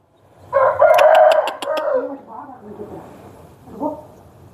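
A hen with her brood of chicks gives a loud, drawn-out fowl call up close, followed by softer, broken clucking notes.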